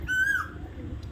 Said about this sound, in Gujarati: વેલી બાજુ કોયલ બોલે છે વેલી આ લીમડામાં